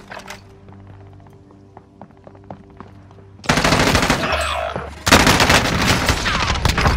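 Gunfire in Call of Duty Warzone: a quiet stretch of faint taps and shots, then loud, dense bursts of rapid automatic fire that fill the last few seconds close up.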